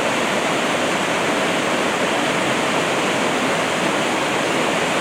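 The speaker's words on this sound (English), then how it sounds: "Hamahama River." The Hamahama River near the Mildred Lakes trailhead in the Olympic Mountains rushes in a continuous, loud, broadband roar of flowing water, steady throughout with no voices.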